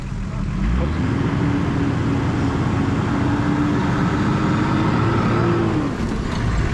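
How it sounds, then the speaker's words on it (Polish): Nissan Patrol off-road vehicle crawling slowly over rough terrain, its engine a steady, close rumble throughout with a low tonal drone rising and holding, no talk heard. "Teraz troszkę podjedź, zobaczymy jak się zachowa samochód"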